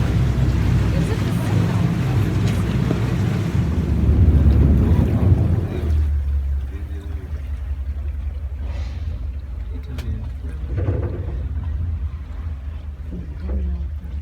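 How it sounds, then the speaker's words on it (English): A boat engine rumbles on a Venice canal with wind and splashing, loud at first, then settling to a steadier low drone with voices faintly in the background. "This is our boat."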